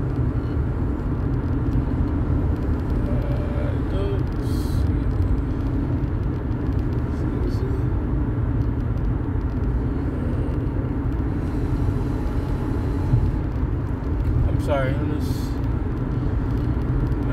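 Steady car road noise fills the interior while driving, a continuous low rumble that holds at an even level throughout with no break.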